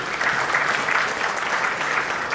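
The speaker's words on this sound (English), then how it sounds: "Let's have a huge round of applause for them, please." A crowd applauding steadily after a conference panel discussion, a dense wash of clapping hands that holds at an even level for the whole stretch.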